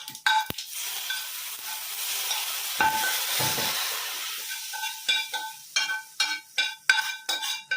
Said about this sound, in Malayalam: ഇനി ഒന്ന് ഇളക്കി കൊടുക്കാം